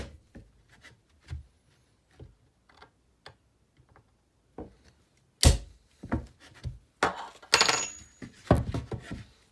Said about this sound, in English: All you're doing is you're just knocking the nails out from the opposite side.